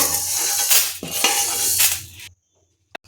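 A spoon scraping and scooping roasted urad dal out of a metal pan while making moringa leaf chutney powder, a few close clinks and scrapes, then a brief silence and one last tap.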